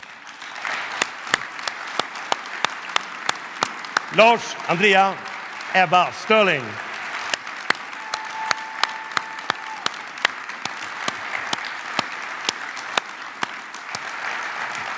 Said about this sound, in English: please welcome back my fellow speakers on stage again and give them a big hand of applause